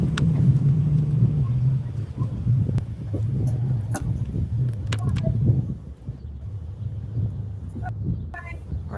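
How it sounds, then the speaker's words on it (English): A parked car's engine idles nearby as a steady low rumble, with faint outdoor sounds and a few scattered knocks over it. "my car's running"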